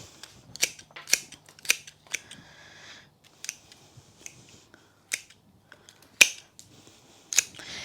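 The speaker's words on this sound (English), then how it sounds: "Then make sure you cut all the stems off on an angle." Scissors snip through dahlia flower stems while a bouquet is trimmed, a series of about a dozen sharp, close crisp cuts spaced irregularly, with quiet pauses between.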